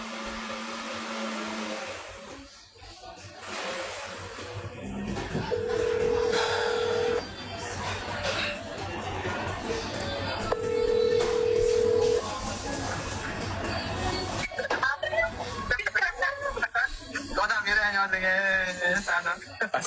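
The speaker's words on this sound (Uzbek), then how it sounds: "Onamga bir telefon qilay" A telephone call rings through on the line with two long, even ringback tones a few seconds apart, set among clattering handset and room noise.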